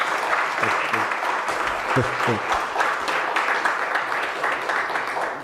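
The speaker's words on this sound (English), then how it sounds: "Let's give him another round of applause." A seminar audience applauds steadily throughout, a dense wash of clapping that stays even and loud from start to finish.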